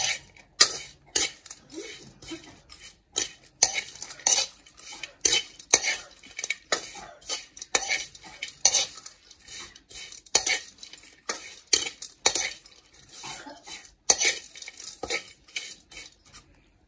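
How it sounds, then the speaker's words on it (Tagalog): Leftover fish with misua noodles stirred in a pot, rapid repeated clinks and scrapes of a utensil against metal in an uneven, busy rhythm, close and fairly loud with a faint sizzle underneath. "Haluin mo lang siya para hindi naman masunog yung ilalim."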